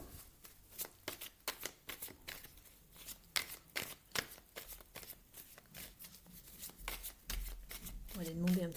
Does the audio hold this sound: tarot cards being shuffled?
yes